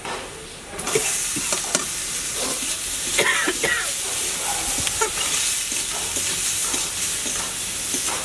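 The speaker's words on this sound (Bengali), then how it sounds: "আলু ভালো করে কষিয়ে নিয়েছি" Potatoes sauté in a pan with turmeric, cumin powder, chilli powder and salt, giving a steady loud sizzle with occasional stirring scrapes after a brief quiet start; no talking.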